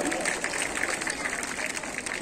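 Students and teachers applaud at a school Independence Day event, a steady mass of clapping from a crowd throughout the short stretch, with voices mixed in.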